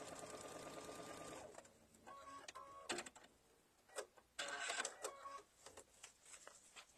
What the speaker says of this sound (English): And then I'm just going to sew that down. Straight line sewing, that's all we're really doing here.